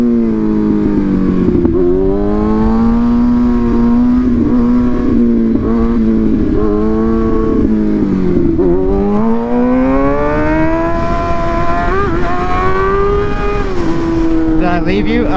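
A motorcycle with a Two Brothers aftermarket exhaust roars continuously up close, its pitch rising and falling as the rider revs and shifts, with wind noise throughout.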